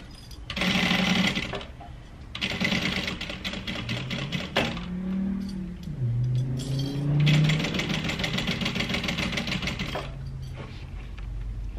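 A sewing machine stitching handbag seams, including bean vinyl, runs in loud rapid bursts of needle clatter, stopping between runs with a softer whirring motor tone in the pause.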